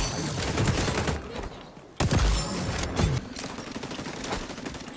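Rapid gunfire from the XDefiant game, loud and dense volleys with a few sharper shots standing out, fills the whole stretch.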